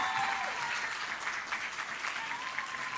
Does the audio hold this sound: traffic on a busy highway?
no